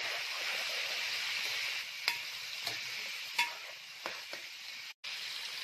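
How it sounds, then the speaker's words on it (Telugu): Goat head curry being stirred in a pan, giving a steady close sizzle with a few soft scrapes and knocks of the spoon against the pan, and no voices. "ఇలా ఫైవ్ మినిట్స్ తిప్పుకోండి"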